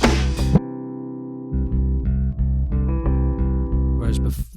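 Softly played bass and baritone-range guitar from an alt-pop demo heard in isolation, with low sustained bass notes under gently plucked repeating guitar tones. Short pauses fall between phrases, and the playing stays quiet and intimate throughout.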